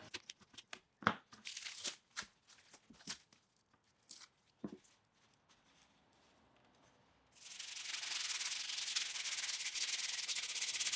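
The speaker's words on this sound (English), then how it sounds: "After sanding the joint smooth" A wooden scarf joint on a kayak paddle made from a reclaimed board is sanded smooth, first in short separate rubbing strokes, then in a steady continuous rasp that grows louder near the end, close and alone.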